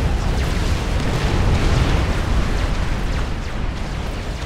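Continuous heavy explosions and booming artillery impacts from eruptor fire in the real-time strategy game Supreme Commander: Forged Alliance, a dense, loud, unbroken rumble of blasts filling the battle.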